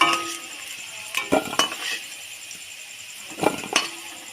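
A metal utensil clinks against a pan while fried potatoes, cooked with salt and turmeric, are lifted out of hot oil; a few sharp, separated clinks come in two pairs over a soft background hiss.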